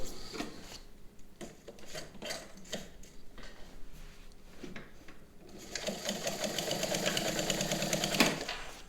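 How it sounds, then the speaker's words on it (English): A 1950s White Model 363 sewing machine stitches through eight layers of fabric, first in uneven bursts of rapid mechanical clatter, then running fast and steadily with a dense whirring rattle, close by. "even with 8 layers, you can sew quickly"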